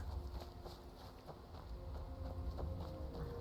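Horse hooves clip-clop steadily in Skyrim, a regular walking rhythm of hoof beats close by over a rumbling game background, with no talk during the sounds.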